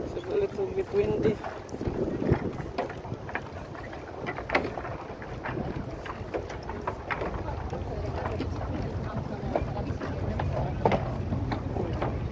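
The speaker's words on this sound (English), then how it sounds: "It's a little bit windy." Wind buffets the microphone outdoors near water in Spain, a rough, gusty rumble throughout, with people talking intermittently beneath it.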